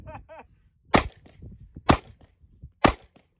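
Three sharp pistol shots from a Taurus G2C, evenly spaced about a second apart, loud and close, with quieter handling clicks and rustle between them during a long round-count test.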